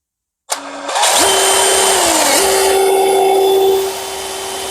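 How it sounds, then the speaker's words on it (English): A power drill starts abruptly and whines loudly and steadily for about three seconds, with a slight pitch dip mid-run, before winding down, close by with no talk. "The flipping drill."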